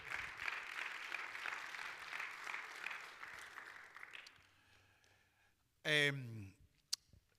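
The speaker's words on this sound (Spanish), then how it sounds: "Démosle palmas a ese rey." Church congregation clapping, a sustained wave of applause that gradually fades. A burst of voices and a sharp click follow near the end.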